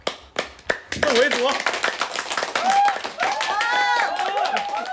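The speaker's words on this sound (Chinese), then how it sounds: "鼓掌" A few sharp hand claps open a lively livestream moment, then quickly give way to people talking with music-like tones behind them.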